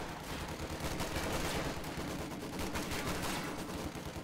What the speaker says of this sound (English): MG42 behind some heavy cover, he's targeting the bar rifleman now